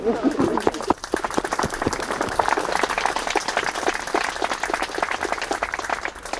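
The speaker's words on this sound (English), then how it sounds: "I think you both deserve a wee round of applause" Sustained applause from a wedding crowd, dense clapping throughout, with a few voices murmuring near the start.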